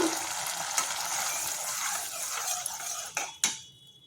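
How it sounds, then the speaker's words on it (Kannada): Water boils in a pot while poha is being prepared, giving a steady bubbling hiss close by. A couple of sharp utensil clinks sound near the end. "ನೀರು ಕುದಿತಾ ಇದೆ"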